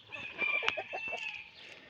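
Chickens and a few roosters in a coop give short clucks and a brief crowing note, fairly faint and close, with no talk.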